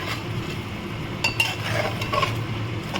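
A spoon stirs chicken in a metal pressure cooker, with a few scraping clinks against the pot over a faint sizzle.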